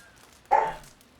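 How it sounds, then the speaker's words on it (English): A single dog bark in a video game, one short loud burst that trails off quickly against quiet ambience. "Be quiet, dog."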